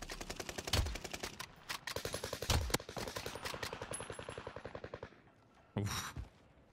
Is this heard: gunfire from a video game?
yes